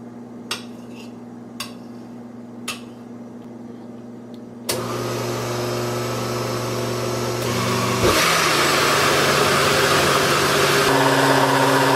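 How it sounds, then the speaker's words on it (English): A blender whirs loudly and continuously after a few light clinks, grinding waffle batter, its motor pitch shifting midway as it keeps grinding. "A veces este licuador necesito un poquito más agua."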